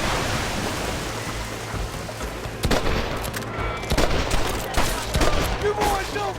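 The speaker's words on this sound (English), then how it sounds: "They're shooting down on us!" Gunfire in Red Dead Redemption crackles as dense, overlapping shots against a constant hiss of wind or surf, with sharp cracks scattered through and growing more frequent toward the end.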